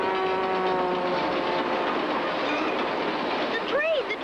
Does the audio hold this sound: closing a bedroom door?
no